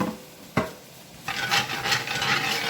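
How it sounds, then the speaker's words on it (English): Flour is being stirred into a pan to build a roux for chicken marsala, a utensil scraping and rasping steadily across the pan bottom after a single sharp knock, close and fairly loud with no talking. "we're just going to mix this around in here"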